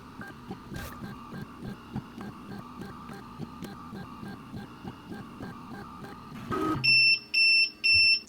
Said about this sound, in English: now it's just doing the self-leveling procedure, just like what a 3D printer does